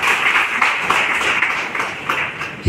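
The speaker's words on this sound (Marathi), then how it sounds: "आपण टाळ्या वाजवून याचं आपलं अभिनंदन" An audience applauding to congratulate a group at an eleventh anniversary gathering in Bhadravati: steady, dense clapping from many hands, moderately loud and continuous throughout, with no speech over it.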